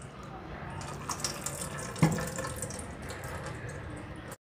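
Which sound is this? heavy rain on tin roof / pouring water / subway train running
pouring water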